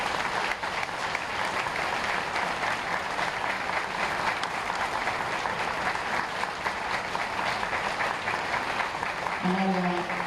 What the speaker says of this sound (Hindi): एक बार बहुत मन से तालियां इनके लिए बजाएं